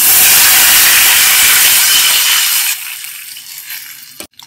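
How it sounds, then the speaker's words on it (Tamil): Tamarind water mixed with turmeric and tomato pours into a pan for rasam, a loud steady rushing hiss that fades after a few seconds and ends with a couple of clinks. "இதில் நம்ம கரைச்சி வச்சிருக்க புளியை ஊற்ற போகிறோம்."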